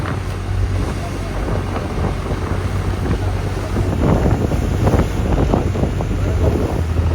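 A boat moves over open sea toward an island in Lakshadweep, with steady engine drone, wind buffeting the microphone and waves splashing against the hull.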